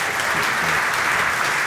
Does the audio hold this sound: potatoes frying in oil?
no